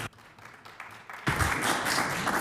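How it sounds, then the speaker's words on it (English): An assembly chamber breaks into applause for new women cafe owners, starting with scattered claps that swell into a sustained, dense round halfway through. "Please join me in giving these women a round of applause"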